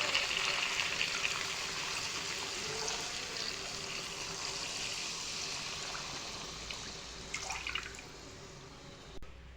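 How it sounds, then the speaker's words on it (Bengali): Water poured into a pan of fried spices and oil for a hilsa fish curry gives a steady, close trickling and splashing wash that runs throughout with little change. "তো এখন আমি দিয়ে দেবো জল।"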